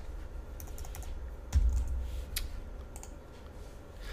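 Fingers tap on a computer keyboard while typing, a short run of close, crisp keystrokes with one heavier thud partway through and quiet pauses between bursts.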